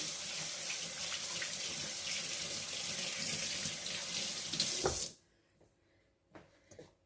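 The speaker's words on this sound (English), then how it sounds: "Let me wash my hands real quick" Tap water runs steadily into a kitchen sink while oily hands are washed, a broad continuous splashing that stops abruptly near the end, followed by a few faint handling knocks.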